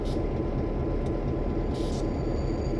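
A freight train hauling cars loaded with pipe on the Springfield Line in Train Simulator 2020, heard as a steady, heavy low rumble with faint high squeals, continuous and unchanging throughout.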